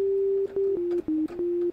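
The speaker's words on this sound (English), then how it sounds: "We come down here to oscillator 2, where we have a sine wave, very nice." A synthesizer oscillator set to a pure sine wave holds a smooth, round, steady tone at one mid-low pitch, sounding as a few sustained notes separated by brief gaps with slight pitch shifts.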